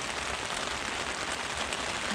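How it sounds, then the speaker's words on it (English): Steady rain patters on a tent during a camping trip in the Yellowstone and Grand Teton area, a dense, even hiss of drops that fills the whole stretch without pause. "while we wait for hopefully it to stop raining"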